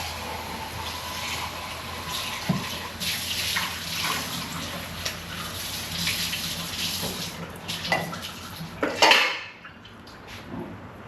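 Dishes and pots being washed up under a running kitchen tap, water streaming steadily with scattered clinks and clatters of pans and cutlery, the flow shutting off near the end, no voices.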